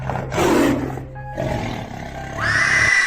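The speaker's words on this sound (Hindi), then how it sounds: "और फिर अचानक से किसी की दहाड़ने की आवाज़ आती है" A loud, close animal roar rises and breaks off, then a second roar follows, dropped into a spoken Hindi horror story as a sudden, frightening effect with no talking over it.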